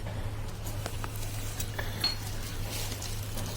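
Fried peanuts and curry leaves being mixed into fried poha for crunchy chivda, soft scraping and light clinks of a spoon against a vessel over a low steady hum, fairly quiet.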